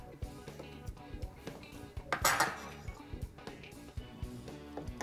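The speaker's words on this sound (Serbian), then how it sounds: "Iseckamo i beli luk." Knife chopping peeled garlic in a home kitchen, a quick run of sharp, close taps and clicks on a board amid light clatter of dishes, with no talking.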